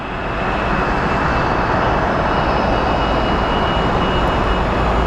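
A loud United Airlines airliner at Sky Harbor Airport roars steadily with broadband engine noise, holding a sustained near, powerful drone throughout with no talk.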